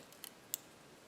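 Two quiet, quick snips of scissors trimming pretty craft paper, a pair of close clicks and then a single sharper cut, with near silence around them.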